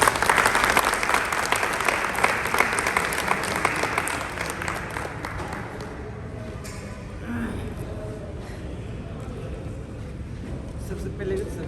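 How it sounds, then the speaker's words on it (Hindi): Loud applause from an audience fills the first several seconds, dense clapping that fades into room noise and faint voices for the rest. "जोरदार तालियां एक बार।"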